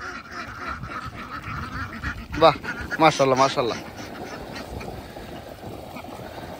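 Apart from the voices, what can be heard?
flock of ducks quacking on a wetland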